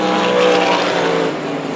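Pavement sprint cars circling Irwindale during a heat race, a loud sustained engine roar holding steady and easing slightly toward the end, no talk.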